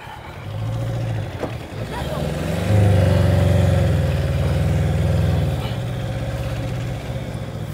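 Tata Ace tempo stuck off-road on grass, its engine idling then revving up in two sustained surges before easing back, moderately close, with voices talking over it.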